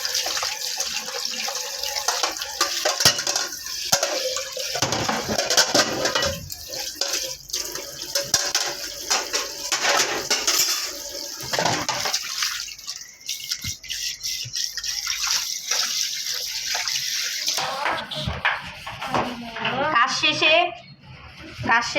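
Dishes are washed at a sink under running tap water, with a continuous splashing flow and clinks of handling. A voice is heard over the water, which briefly stops near the end.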